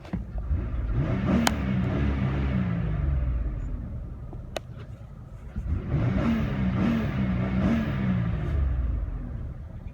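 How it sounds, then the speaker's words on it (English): A 2005 Chevy Malibu Maxx engine revs up twice, each surge rumbling loudly then falling away, with no talking. "rev the engine"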